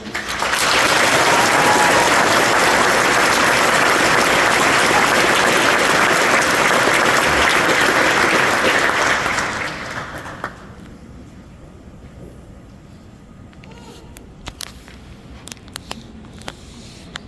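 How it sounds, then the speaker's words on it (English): Dense, loud applause from a large audience at a military graduation ceremony honoring honor graduates and awardees, sustained for about nine seconds before fading to quiet room noise with a few stray taps. "Please join me in a round of applause for the honor graduates and all awardees."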